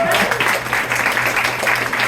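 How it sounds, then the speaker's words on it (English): An audience at a lively live show claps steadily, producing a dense, continuous wash of applause that stays fairly loud throughout, with a low hum underneath. "Can we do a round of applause for all of you just for coming out?"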